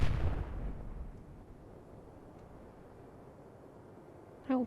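Deck gun of a U-boat firing on freighters in the naval strategy game Atlantic Fleet, one loud boom at the start that rolls away into a long low rumble, then a short sharp burst near the end.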